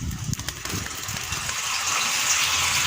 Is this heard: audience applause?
no